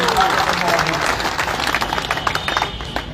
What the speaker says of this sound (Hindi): मैं चाहता हूं जोरदार ताली बजा के राजेश भाई का।